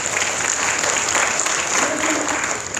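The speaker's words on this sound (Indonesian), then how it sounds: "Beri tepuk tangan." A congregation at a Sunday church service held in a hotel room breaks into sustained applause, a dense wash of clapping from the crowd with faint voices beneath.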